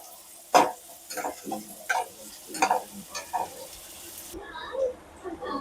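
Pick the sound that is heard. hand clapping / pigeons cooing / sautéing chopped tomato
sautéing chopped tomato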